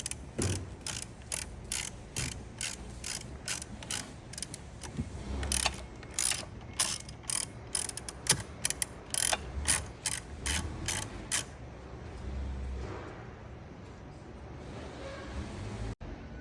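A 3mm Allen socket works loose the bolts of a motorcycle carburetor air filter, giving a run of quick, sharp ratcheting clicks in bursts, close up, then easing off into quieter handling near the end.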